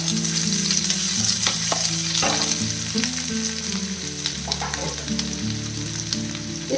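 Chopped garlic and ginger fry in a hot pan for egg manchurian, a steady close sizzle with occasional stirring scrapes, loud and continuous with no talking.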